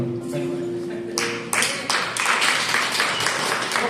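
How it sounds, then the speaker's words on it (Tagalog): Congregation at a Christian gathering breaks into loud applause after a quiet opening, the clapping surging in a few stepped bursts and then holding as a dense, close wash of hands. "minsan pa po isang malakas na palakpak sa ating Diyos na buhay"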